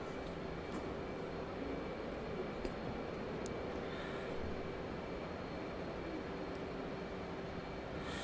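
In a VR flight game, an aircraft engine runs at full power as a steady, faint, even roar with no talking.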